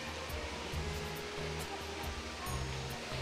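A mountain stream at Japali in the Tirumala hills flows in a continuous, even rush of water, steady and fairly close, with no voices.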